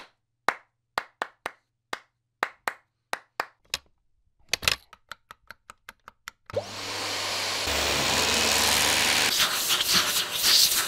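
A Hoover vacuum cleaner roars on steadily and loudly after a series of sharp, evenly spaced claps or taps.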